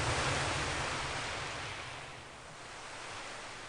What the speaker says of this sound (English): As my quiet words fade into the sounds of sea waves